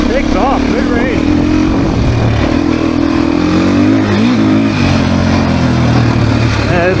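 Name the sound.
Beta dirt bike engine revving during demo ride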